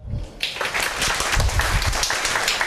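A classroom audience at the opening of a Korean history lecture breaks into full, close clapping that starts abruptly and stays loud and even to the end.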